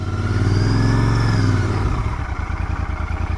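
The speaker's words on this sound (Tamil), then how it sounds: "நம்ம வீட்டுக்குள்ளே வந்து வண்டி போக போகுது." A Royal Enfield Continental GT motorcycle rides into a house with a loud, close engine drone that holds steady and then drops to a lower, rougher idle rumble, no talking.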